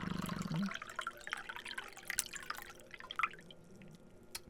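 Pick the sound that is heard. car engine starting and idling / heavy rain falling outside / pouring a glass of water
pouring a glass of water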